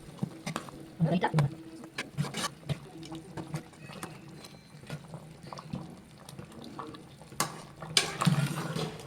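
A Kerala-style fish curry with mango and tamarind water bubbles in a pot, soft irregular blips and gurgles close by at low volume, with a few sharper clinks and faint speech in the background.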